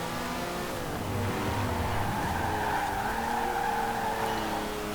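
Lamborghini in Forza Horizon 4, the engine revving hard and holding high with a rising whine and tire squeal, loud and continuous with no talk over it.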